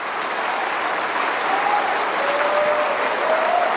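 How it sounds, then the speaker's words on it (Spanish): A church congregation applauds during a worship service, a sustained loud wash of clapping with faint high tones and cheering voices mixed in. "Dale otro aplauso al Señor."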